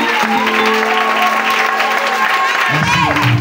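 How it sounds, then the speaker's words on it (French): Congregation in a church applauding loudly and steadily, dense clapping with crowd noise, heard up close, with a sustained musical tone running underneath and a voice speaking over it toward the end. "Je voudrais qu'on l'applaudisse très très fort."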